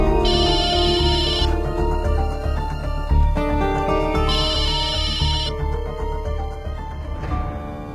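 A phone rings loudly with a melodic electronic ringtone, a bright repeating tune with two high bursts that plays on uninterrupted for several seconds before cutting off near the end.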